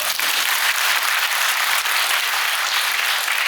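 Audience at a residents' briefing on the Mokdong 13 apartment complex redevelopment breaks into steady, dense applause, a continuous close wash of clapping filling the whole moment without talk.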